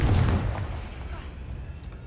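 A Confringo explosive spell goes off in Hogwarts Legacy, a deep booming blast at the start that rumbles and fades away over the next two seconds.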